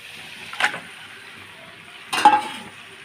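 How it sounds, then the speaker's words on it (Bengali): Chicken pieces sautéing in spiced oil: a steady background sizzle broken by two distinct spatula scrapes in the pan, close by and without speech. "এখন আমি এর মধ্যে চিকেনগুলো দিয়ে দেবো চিকেনগুলো দিয়ে এর মধ্যে আমি ভালোভাবে কষিয়ে নেব"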